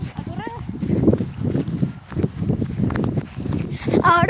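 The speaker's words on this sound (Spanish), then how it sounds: "Ahora vamos ya a ver al caballo." Horse hooves clip-clopping on a walk through a small wooded area, a steady run of close, fairly loud hoofbeats heard beneath children talking and shouting throughout.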